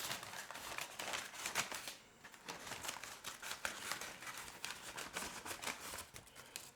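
Scissors snip a section out of a flour bag being packed for long-term food storage, with crinkling plastic and paper rustling in a steady, close run of small cuts and crackles.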